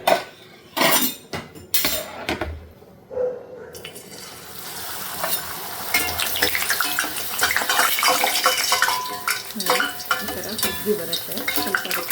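Puris made from wheat flour, maida and chiroti rava frying in hot oil, opening with handling clatter and knocks before a loud, bubbling, crackling sizzle builds and continues.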